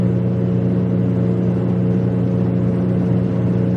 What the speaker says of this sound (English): That slight humming noise is the exhaust.